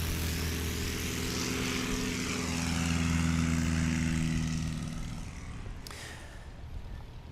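A Stinson propeller airplane on its takeoff roll at a STOL competition in Ontario, Oregon, a steady droning engine and propeller buzz that swells then fades as it pulls away.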